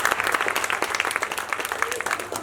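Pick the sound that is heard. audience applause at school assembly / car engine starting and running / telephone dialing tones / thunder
audience applause at school assembly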